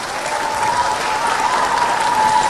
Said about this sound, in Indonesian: boleh kasih tepuk tangan sekali lagi dong Pak Jokowi dan Pak JK.